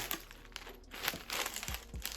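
A small plastic packet found in a lost-parcel unboxing crinkles and rustles as it is handled, a close, continuous papery crackle with a few sharper crunches.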